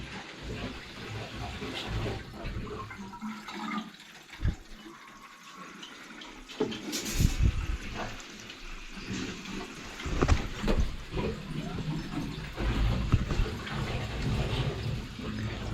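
Water rushing and trickling into the pipework of a domestic central heating system as it is filled and pressurised, a steady wash of flow with louder surges and gurgling bursts partway through.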